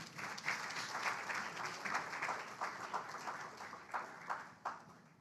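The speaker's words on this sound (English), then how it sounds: "Let us applaud the 5Cs." Steady applause from an audience at a Caribbean Community Climate Change Centre anniversary event in Belize, a dense wash of many hands clapping at moderate volume, continuing without a break for several seconds.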